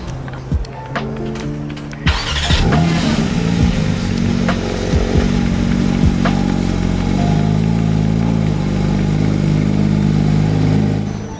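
2022 Porsche 992 GT3 in green: a brief start-up clatter gives way to a loud, sustained close-range engine drone that climbs and holds at high revs, with no talking.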